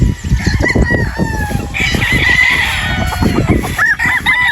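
Roosters crow loudly and repeatedly nearby, overlapping calls mixed with clucking from other chickens in a busy farmyard.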